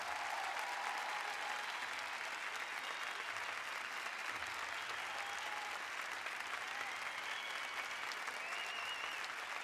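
Concert audience at an open-air pop show applauds a symphony orchestra, steady dense clapping and crowd noise continuing evenly throughout, heard from a distance at moderate loudness.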